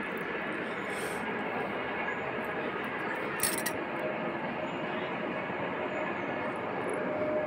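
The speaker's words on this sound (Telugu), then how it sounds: "ఎక్కడో ట్రైన్ సౌండ్ కూడా వినిపిస్తుంది." A distant train passes near a village in the early morning, a steady, faint broadband rumble that stays even throughout, with a couple of brief light clicks and no talking.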